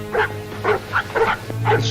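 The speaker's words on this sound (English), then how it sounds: "It's a dog. He's hurt. He's limping." An injured, limping dog in a snowy Yukon wilderness setting gives a run of short whimpers and yelps in about five distinct bursts, fairly close, over a low steady background hum.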